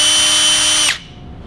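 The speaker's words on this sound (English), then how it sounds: "We want it to go fast for drilling into wood." A cordless power drill spins at high speed with a steady, loud whine, then the motor cuts off abruptly and leaves only quiet room noise.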